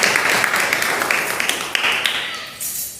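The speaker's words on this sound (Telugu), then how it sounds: "గట్టిగా చప్పట్లు కొడదామా?" A church congregation at a new-year sermon claps loudly, a dense, continuous patter of many hands filling the room and fading slightly at the end.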